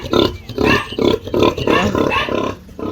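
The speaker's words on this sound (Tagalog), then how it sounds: "Ito yung baboy namin," A pregnant pig on a farm grunts loudly and close, with a series of rough, throaty snorts in an uneven rhythm and no voices over it.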